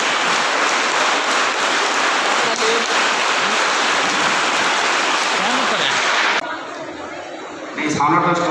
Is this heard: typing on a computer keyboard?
no